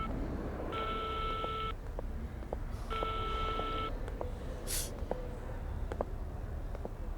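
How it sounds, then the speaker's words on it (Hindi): A phone call goes unanswered as two long ringback tones sound in succession, each about a second long with a pause between, over faint room noise and a few small clicks. "अरे फोन का जवाब क्यों नहीं दे रहा?"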